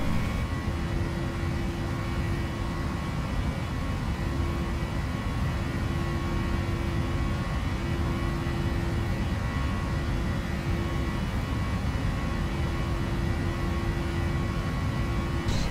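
PMDG 737NG airliner engines just after takeoff in the FSX flight simulator, a steady loud broadband roar with a constant low hum running unchanged throughout.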